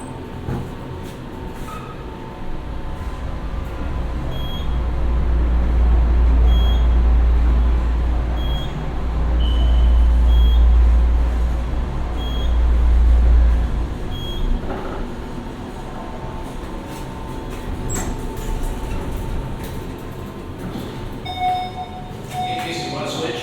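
A modernized Dover glass elevator at the Yellow Ramp in Appleton, Wisconsin riding upward, with a low, steady motor hum that swells for several seconds, faint beeps and chimes around it, and people talking.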